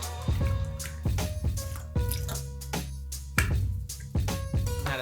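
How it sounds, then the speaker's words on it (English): Shoe cleaning solution is squirted into a bowl of water, giving a string of close, distinct liquid plops and drips at an uneven rhythm, each with a short watery ring. "grab our bowl of water, grab our solution, and pour 2 squirts"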